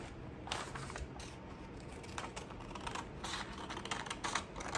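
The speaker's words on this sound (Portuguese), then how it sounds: "vou passar contornando com a tesoura pela curva que eu encontrei" Scissors snip steadily around a curved pattern line while cutting out a pouch (pochete) pattern piece, a close, continuous run of short crisp cuts with brief pauses and no talk.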